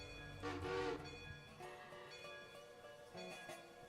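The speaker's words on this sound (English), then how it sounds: "Are you blowing a whistle?" Steam locomotive whistle in the Railroader video game, sounding from the far end of the valley in a few sustained tonal blasts, faint and distant under light background noise.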